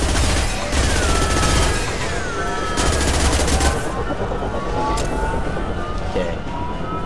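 Heavy gunfire from a battle in Mass Effect 2, continuous bursts of shooting mixed with whooshing and sweeping tones, loud and relentless, with a voice now and then.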